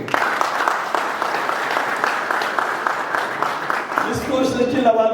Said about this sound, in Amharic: እስቲ ባሎች ለሚስቶቻችሁ አንድ ያጨብጭቡ